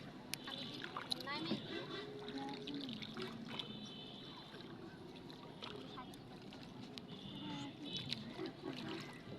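Water lapping and trickling against a small boat during a ride, faint and gentle beneath people chatting nearby.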